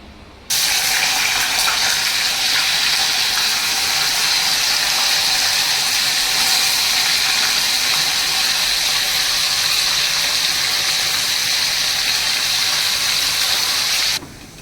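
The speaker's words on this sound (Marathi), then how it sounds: "पनीर फ्राय करून घेतले" Paneer fries in a pan with a loud, steady, hissing sizzle that starts abruptly and holds constant for about fourteen seconds before stopping, with no voices.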